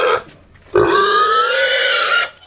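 Pigs on a farm give a short grunt, then a longer, loud, drawn-out grunting squeal close by, with no talk over them.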